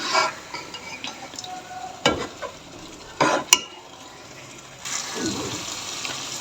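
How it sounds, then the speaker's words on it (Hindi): Masala with Kashmiri red chili frying in hot oil in a home kitchen, a steady sizzle running throughout, broken by a few sharp clinks and scrapes of a spoon stirring the pan. "इसके अंदर मैंने ऐड कर दी है कश्मीरी लाल मिर्च, ये रही, ठीक है। और देखें ऑयल ऊपर आने लगा है"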